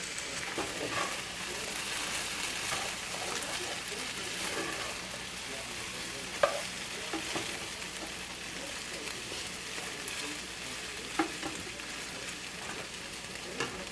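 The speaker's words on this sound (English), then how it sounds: "I'm gonna go ahead and keep on stirring up these potatoes." Potatoes frying in a pan are stirred, giving a constant soft sizzle with occasional scrapes and taps of the utensil against the pan.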